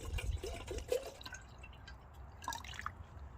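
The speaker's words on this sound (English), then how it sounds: "Get some water poured in here." Water poured into a pot for cowboy coffee at a stealth campsite, a short burst of dripping and splashing liquid that fades after about a second, with a brief second splash toward the end; quiet and close.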